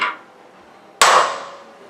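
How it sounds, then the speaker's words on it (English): A hammer's side strikes metal in a die during armour work: one sharp, loud metallic blow with a ringing decay, preceded by a fainter tap, with no talk. "You want to hit it with the side of your hammer because you got to keep your thing clean."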